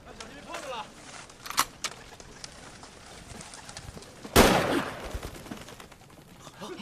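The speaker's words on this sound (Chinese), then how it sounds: "谁让你开枪打鸟的？" A single loud rifle shot rings out in a war-film scene with Red Army soldiers, a sharp burst amid faint voices and scattered clatter.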